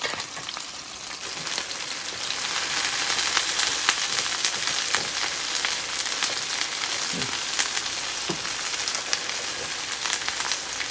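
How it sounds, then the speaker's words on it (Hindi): Half a kilo of okra fries in hot oil, a steady, close crackling sizzle that holds evenly throughout, with occasional sharper pops and faint utensil knocks and no voices. "ये मैंने दूसरी तरफ से ऑयल गरम कर लिया है, और अब मैं इसमें भिंडी फ्राई करूँगी।"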